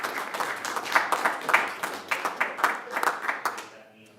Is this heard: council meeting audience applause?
yes